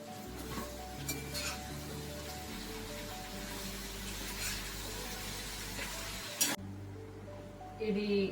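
Tomatoes going into a half-cooked vegetable curry frying in a pan, a steady close sizzle with occasional clinks of a spoon against the pan, and a brief sharp hiss burst near the end.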